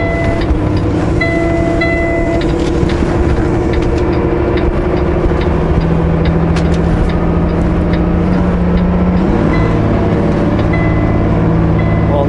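A truck engine drives down a 10% grade in third gear and fails to upshift, giving a loud, steady, droning rumble with a faint whine that holds at one pitch and barely changes, with no voices.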